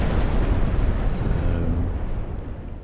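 A torpedo strikes a ship during a naval convoy attack in Ultimate Admiral: Dreadnoughts, giving a loud, deep rumbling explosion that roars steadily and then slowly fades over a few seconds, with no talking.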